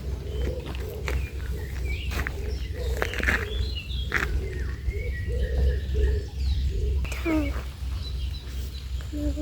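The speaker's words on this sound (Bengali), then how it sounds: "কত সুন্দর পাখির কিচিরমিচির ডাক" Outdoors, birds chirp in quick, scattered bursts while pigeons coo in low repeated calls nearby, over a steady background hum with occasional footsteps and faint voices.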